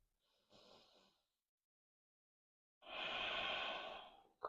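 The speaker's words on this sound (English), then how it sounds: "Breathe deep." Deep breathing during yoga practice: a slow inhale, a pause of silence, then a long full exhale, close and intimate with no talking.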